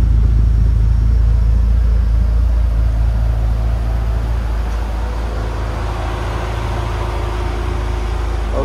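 A Porsche 911 Turbo backing out into the sun, its engine holding a deep steady rumble close by that eases slightly partway through.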